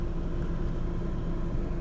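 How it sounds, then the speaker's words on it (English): A parked car's engine runs loudly, a steady low rumble and drone that fills the whole moment without a break. "I don't know why my car runs so freaking loud"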